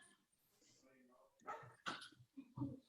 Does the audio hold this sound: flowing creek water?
no